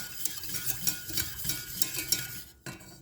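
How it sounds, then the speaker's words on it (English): Ceremonial cacao is whisked with milk in a pot, giving a steady, close scraping and swishing that pulses rhythmically several times a second before a brief pause and a light clink. "I keep adding the milk and whisking together"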